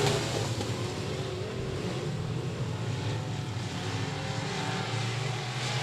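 Race cars at a dirt speedway roar together in a dense, sustained engine drone, heard from a distance with the steady wash of a packed field on track.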